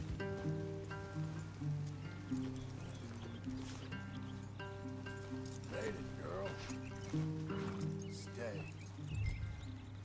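Horses moving through trees in the video game Red Dead Redemption 2, soft hoof clip-clop and shuffling under a steady rain-like ambience and sustained game music.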